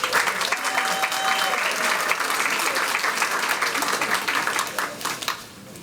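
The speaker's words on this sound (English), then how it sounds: "And they have a cheering section." At a school board meeting, a group applauds and cheers for high school students, with brisk, dense clapping and some whoops and voices mixed in, tapering off toward the end.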